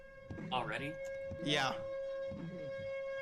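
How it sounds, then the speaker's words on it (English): A steady, droning tornado civil defense siren tone holds in the background in Eldora during a tornado outbreak while people speak briefly over it. "they are now sounding the sirens in Eldora"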